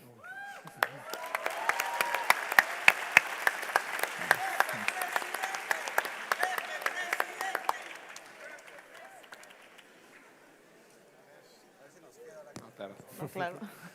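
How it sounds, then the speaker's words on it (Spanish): An audience at a ceremony for Tec de Monterrey applauds with loud, sharp claps that build and then fade over several seconds, and a voice speaks over and after the clapping before a brief renewed burst near the end. "un aplauso por favor"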